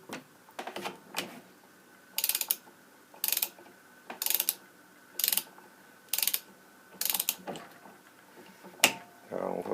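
Wrench ratcheting a valve tight on a Bosch CP injection pump, a series of evenly spaced short mechanical clicking bursts, close, with someone speaking between some of them.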